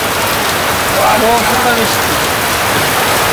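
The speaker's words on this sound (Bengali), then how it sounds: "এই যে বৃষ্টি শুরু হয়েছে, প্রচুর পরিমাণে বৃষ্টি নামতেছে" Heavy monsoon rain pours steadily over a village home, a dense continuous wash of drops with a faint voice briefly under it.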